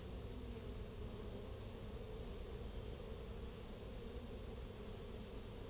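Honey bees buzz steadily in an open hive during an inspection, a dense, even hum from many insects close by, faint but continuous with no talk.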